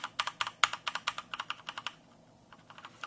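Keys on a Corsair K70 RGB Rapidfire keyboard with Cherry MX Speed switches clatter in quick, irregular bursts of close, crisp clicks, pausing briefly before a few more taps.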